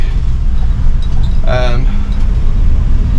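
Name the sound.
1960 Chevrolet C-10 truck engine idling at high RPM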